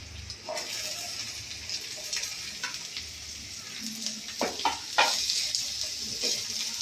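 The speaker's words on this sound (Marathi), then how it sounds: "आता मी कांदा टाकते." Chopped onion sizzles and fries in a pan for paneer bhurji, a steady soft hiss with occasional stirring scrapes, fairly quiet and close.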